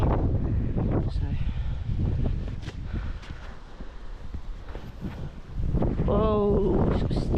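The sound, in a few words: wind blowing in a garden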